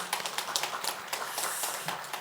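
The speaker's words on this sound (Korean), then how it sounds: "우리 수고했다는 보답으로 다시 한 번 더 박수 보내십시다" Applause from a church congregation, a close patter of scattered hand claps with irregular sharp taps over a continuous wash, steady for the whole stretch.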